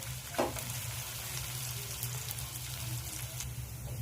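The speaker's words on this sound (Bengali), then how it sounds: "এবার পেঁয়াজটা আমি লাল করে ভেজে নেব" Three medium onions sizzle steadily in hot oil as they brown in a pan for a rohu fish korma. The frying is a continuous crackle with occasional sharper pops and no talking.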